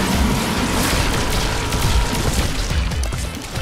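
Loud, dense booming blasts roll one into another in a chaotic barrage of Skylanders Imaginators ship cannon fire, crashing and rumbling throughout.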